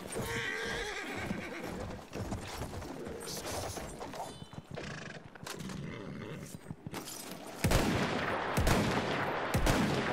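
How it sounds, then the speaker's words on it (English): Horse whinnies and hoof clip-clops in the Battlefield 1 video game, loud and close amid steady battle noise with scattered gunfire, growing louder near the end. "it's another horse."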